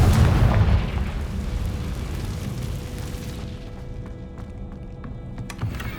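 A Confringo fire spell bursts in the video game Hogwarts Legacy, a heavy booming blast that rumbles and fades over several seconds, with a few small pops afterward.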